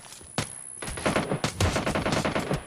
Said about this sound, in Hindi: पर मेरे को गोलियाँ पड़ी जा रही थी